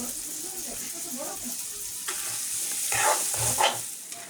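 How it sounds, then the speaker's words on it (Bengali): Small diced potato pieces frying in a pan for a chickpea curry: a steady hissing sizzle, with louder stirring scrapes and knocks toward the end and some faint voice. "এবার আমি একটু এগুলোকে ভালোভাবে ভেজে নেব।"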